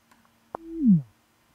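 A single short electronic tone from the horror game Sara Is Missing, a brief click followed by a falling synthetic beep, alone and close.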